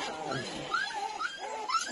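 A young puppy whimpers in a small cage, giving faint, rising high-pitched whines in a short, quiet run of cries.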